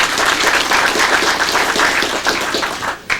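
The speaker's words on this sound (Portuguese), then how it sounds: "uma salva de palmas para a Guarda Municipal de Taboão da Serra" Applause at a municipal council session, honoring the city's municipal guard in Taboão da Serra; sustained hall-filling clapping that holds steady and begins to thin near the end.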